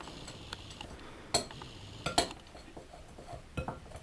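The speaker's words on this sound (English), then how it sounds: "he's going to just mix all the dry ingredients together in the bowl" A spoon stirs dry cheesecake ingredients in a bowl, giving soft scraping and a few sharper clinks against the bowl in a quiet kitchen, with no one speaking.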